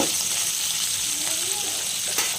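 Green chillies and garlic frying in oil in a pan for a bitter gourd dish, a steady close hiss and sizzle with a faint scrape of stirring near the end.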